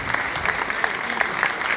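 Audience at a motivational seminar in KPK claps steadily, a moderate wash of hands with a few sharper individual claps standing out, no voices talking over it.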